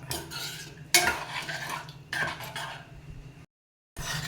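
Spoon stirring ridge gourd curry with milk in a pan on high heat, with repeated scraping and clinking bursts over a faint sizzle, close up, then a brief silence before stirring resumes.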